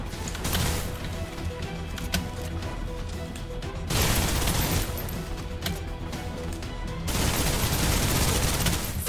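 Sustained bursts of suppressive gunfire in the PC shooter Snowbreak, loud and dense, with heavy rapid automatic fire broken by brief lulls before resuming.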